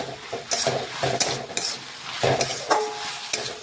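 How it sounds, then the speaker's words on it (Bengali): Spices and vegetables, with Kashmiri chilli powder added to potato and carrot, stirred in a frying pan: a run of close, uneven scraping strokes over a soft sizzle, with no voices. "এটাও ভালোভাবে নাড়াচাড়া করে দেখুন মিশিয়ে নিচ্ছি।"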